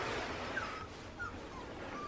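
A dog whimpers and cries in a few faint, high-pitched whines over a steady background hiss at a country house.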